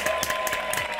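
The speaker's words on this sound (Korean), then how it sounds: "와 이거 박수 난다 진짜" Audience applause at the WaterWorld stunt show at Universal Studios Hollywood, a dense burst of clapping from a large outdoor crowd, steady and loud through the short moment.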